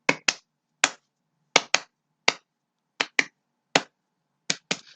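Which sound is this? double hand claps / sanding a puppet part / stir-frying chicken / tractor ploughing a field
double hand claps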